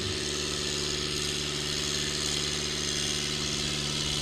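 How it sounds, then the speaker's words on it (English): Massey Ferguson 65 tractor at a barnyard tractor pull, its engine running at a steady, loud idle with a constant throbbing rumble and no talking. "the greatest tractor alive, the Massey 65"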